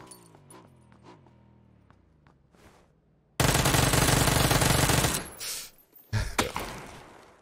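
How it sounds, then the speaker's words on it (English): A micro Uzi fires in PUBG: a loud, sustained rapid burst of automatic gunfire cuts in sharply after quieter tonal game sounds, breaks off, then a second shorter burst follows. "Shot my micro Uzi at him, dude."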